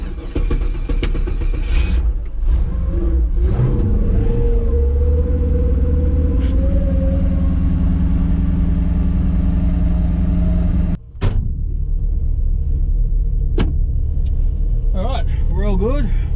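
Ford XG ute engine cranking and catching, then settling into a loud, steady low idle rumble close by, with a brief cut near the end and a voice speaking over parts of it.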